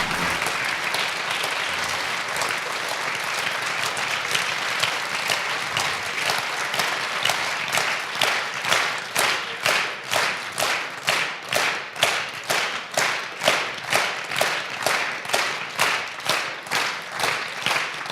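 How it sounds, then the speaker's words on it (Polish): A concert audience applauds the composer and lyricist after a performance of Kashubian songs with a chamber ensemble and chamber orchestra; dense, loud clapping settles into a steady unison rhythmic clap for the rest of the stretch. "Brawa dla kompozytora, brawa dla autora tekstu."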